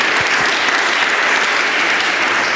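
An audience claps steadily for a symposium session of young investigators, a dense, even round of applause that fills the room from start to finish.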